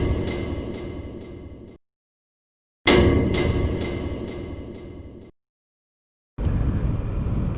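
A Buell XB12Ss motorcycle riding at highway speed, with steady engine and wind roar that cuts out in two abrupt silent gaps before resuming, loud and close to the microphone.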